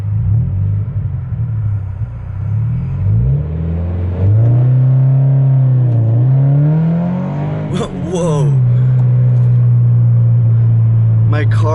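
A Subaru BRZ with a custom equal-length header pulls away from a standstill, its loud engine note climbing and dipping through revs and gear changes up close, with a brief excited exclamation from the driver.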